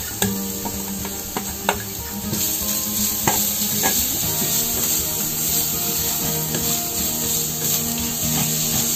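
Minced pork with lemongrass sizzles steadily in a pan while being stirred, a continuous close hiss broken by scraping and a few sharp knocks of the utensil against the pan.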